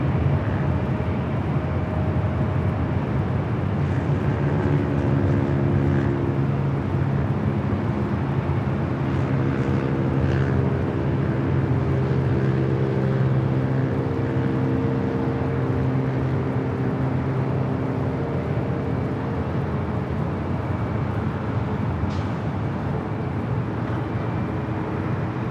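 A long-haul airliner from Sydney arriving at LAX, heard as a steady broadband jet roar with droning engine tones, loud and continuous for the whole stretch with no talk.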